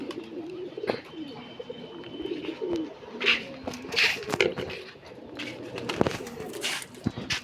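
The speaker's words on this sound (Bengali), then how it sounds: "এখন সব কবুতর পানি খাবে।" A group of pigeons coos softly nearby in repeated low, throaty calls, with occasional sharper chirps and light rustling, no talk.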